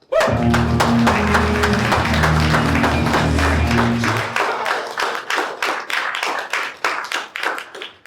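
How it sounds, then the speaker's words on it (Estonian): Audience applause and cheering welcome improv performers onto a stage at a live comedy show, loud dense clapping over a steady low hum that drops away midway, leaving scattered claps tapering off. "teeme suure aplausi, et kutsuda lavale meie tänased improviseerijad!"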